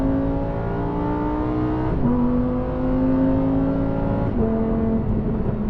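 Lamborghini Huracan Sterrato V10 engine revving steadily while driving, a loud continuous drone with rising pitch sweeps and two gear-shift dips, heard from inside the cabin.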